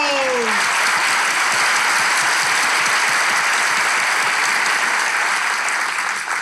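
Loud, sustained applause from a studio audience fills the whole stretch, dense clapping that stays steady throughout, with a brief whistle-like tone at the start.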